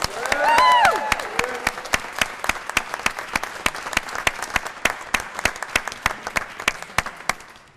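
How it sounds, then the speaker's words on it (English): Loud, sharp claps from a crowd honoring youth baseball World Series champions ring out at a steady rhythm, joined briefly by a whoop near the start, and keep going at an even pace throughout. "I ask all of you to join me in a rousing round of applause"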